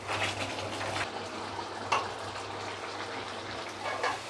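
A little water is poured into a pot of mushroom biryani, a soft continuous gushing trickle with a few brief louder splashes, close and quiet, with no talking.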